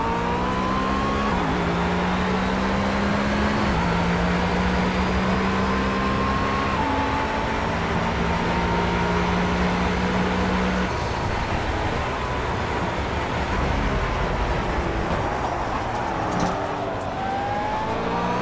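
A McLaren P1 race car in Project Cars at the Monza circuit roars steadily with a high engine whine that shifts pitch through gear changes, sustained and loud throughout.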